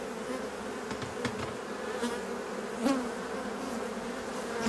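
Honeybees working at a hive, a steady dense buzz of many insects close by, with a few louder passes as individual bees fly near.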